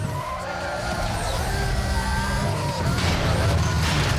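Cars skid and screech with tires squealing in a Need for Speed Most Wanted street sprint, a loud continuous engine roar with sliding tire noise and a hint of impact.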